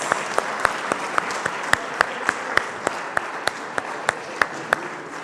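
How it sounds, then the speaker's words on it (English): A congregation at a spiritual gathering claps for its temple volunteers, a soft, steady patter of many hands with a few sharper, regularly spaced claps standing out close by, no voices over it. "how about a round of applause for all our temple folks"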